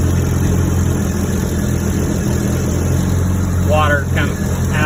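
A Yamaha WaveRunner personal watercraft engine runs steadily at a loud, even idle, with a brief voice near the end.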